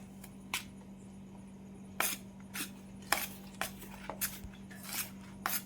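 A spoon stirs besan laddu mixture in a vessel, giving sparse, sharp metallic clinks and scrapes at irregular intervals over a low steady hum, with no talk.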